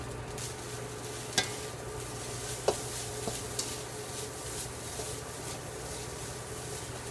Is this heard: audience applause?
no